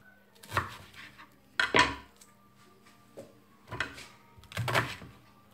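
A knife cuts through a pumpkin for a soup, with a few sharp thuds and clacks against a cutting board spaced out over several seconds, close and fairly quiet.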